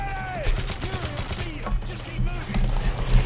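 Rapid gunfire bursts from the Call of Duty Modern Warfare 3 campaign crackle repeatedly over the game's battle noise, with voices and effects layered underneath.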